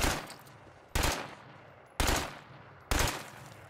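Four loud gunshots ring out in a video game at about one-second intervals, each a sharp crack followed by a decaying echo, with no talking.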